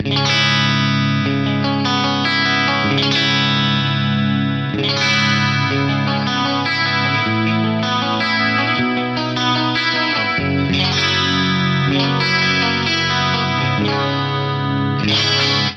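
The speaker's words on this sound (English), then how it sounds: "kick in the dual detune mode on the pitch block with 9 cents of detune" Electric guitar chords with a wide, shimmering doubled effect from a dual detune pitch setting at 9 cents, sustained and continuous, playing loudly with no talking.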